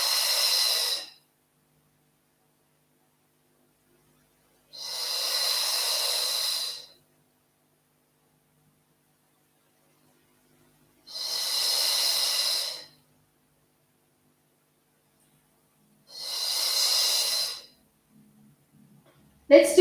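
Breathing during a Pilates exercise: four long, hissing exhales, each lasting over a second and spaced several seconds apart, close and clear with near silence in between.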